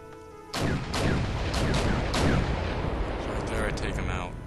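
Tank gunfire in the war strategy game Wargame: European Escalation: several heavy booming shots and crashes in quick succession over a steady battle din, loud and close.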